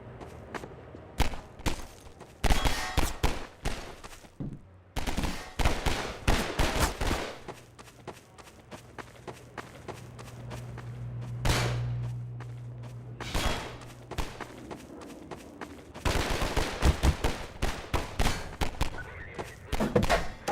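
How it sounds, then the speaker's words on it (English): Bullet gunfire in a video game with a faked Doppler pass-by, heard as clusters of sharp, loud shots and thuds in irregular bursts, broken by a quieter stretch with a low droning hum midway. "We then play two different sounds at that point to fake a Doppler effect, one for the bullet's approach and one for its departure."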